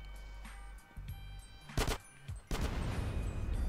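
Gunfire in the video game GTA San Andreas: a few bursts of shots and a loud blast, short and sharp, over a quiet game backdrop.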